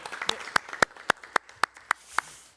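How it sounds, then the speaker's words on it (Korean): A few scattered hand claps at a political debate forum on election law reform, about eight sharp, evenly spaced claps from a small audience, fairly faint and close, with no voices over them. "큰 박수로 환영해 주십시오."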